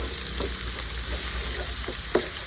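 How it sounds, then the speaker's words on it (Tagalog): Ginger, onion and garlic frying in oil in a pan, a steady close sizzle with a few soft stirring scrapes, no voices. "Pag medyo nag-brown na yung luya, pwede nang isunod yung sibuyas at tsaka yung bawang."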